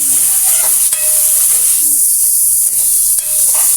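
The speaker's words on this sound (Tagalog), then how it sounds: "Ilalagay na natin yung ating konting giniling." Ground meat sizzling in a hot pan while a vegetable dish is cooked, a loud, continuous hiss close by, broken by occasional stirring scrapes.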